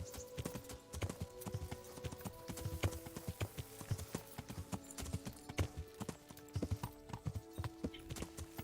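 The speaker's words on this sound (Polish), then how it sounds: "czuć, że ten koń jest wolniejszy" Horse hooves in the video game Kingdom Come: Deliverance, a steady, quick clip-clop of a horse at an even pace, moderately faint, with a faint tonal hum under it.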